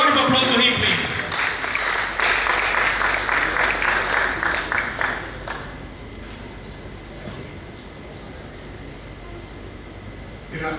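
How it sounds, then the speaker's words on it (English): Applause from an audience at the official launch of a Ghana food and arts festival for a deputy director, clapping that fades after about five seconds into a quieter room with murmuring voices. "Ladies and gentlemen, a round of applause for him, please"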